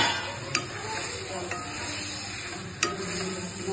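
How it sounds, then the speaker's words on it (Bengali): Boiled potatoes are mixed into masala frying in a pan, a soft continuous sizzle with a few sharp metallic clinks of a spoon against the pan. "এবার আমি আলুগুলো দিলাম, সেদ্ধ করা আলু"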